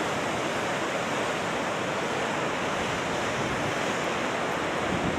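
Ocean waves wash in on a winter shoreline, a dense, continuous roar of surf close by that stays loud and even throughout, with no voices.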